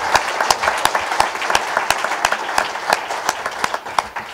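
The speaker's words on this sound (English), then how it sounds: "Can we give Deb Scheffel a round of applause?" A crowd applauds at an event honoring a Colorado teacher-preparation program's director, with steady overlapping claps and a few sharper individual claps standing out over the 4 seconds.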